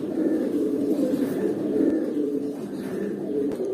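An old-line, light-eyed pigeon coos close by in a low, steady, throaty stream of murmurs that runs throughout, with no speech over it.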